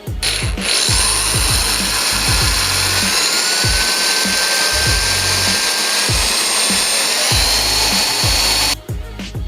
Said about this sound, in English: So we'll drill the pilot holes, then we'll drill the final holes